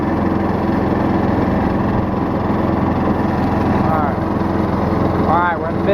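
Old riding lawn mower engine running steadily in fifth gear with the blade disengaged, a loud, continuous close drone throughout, with a few faint voice-like sounds near the end.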